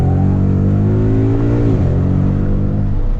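A Shelby Mustang accelerates hard in first gear, heard from inside as a loud, rising engine roar that climbs steadily, then drops sharply as the revs fall and carries on as a lower drone.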